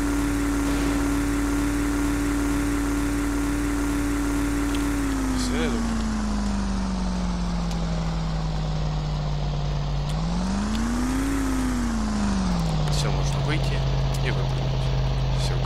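Speedboat engine in GTA San Andreas, a steady loud motor drone that holds pitch, drops, swells briefly around a turn, then settles lower, continuous throughout with a voice talking over it.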